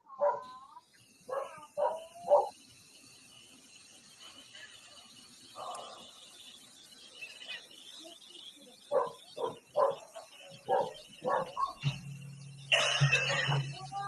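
Dogs bark repeatedly in clusters of sharp yaps with some whimpering between, moderately distant over a faint hum, ending with a burst of noise and a low thump.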